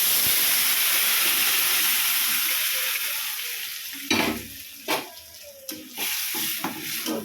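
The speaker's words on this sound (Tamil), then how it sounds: "இந்த ஸ்டேஜில் நம்ம கூட்டை ஊற்றிடலாம்." Beetroot-style kootu being poured into hot tempering in a pan for ridge gourd kootu, with a loud continuous sizzle that fades as the liquid goes in, then several close scraping stirs.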